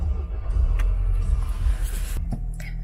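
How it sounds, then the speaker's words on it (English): A Volkswagen car powering on after its key fob is held to the pad, heard as a low, steady engine rumble that settles into an idle, with a short mechanical click near the end. "the car will actually start to power on"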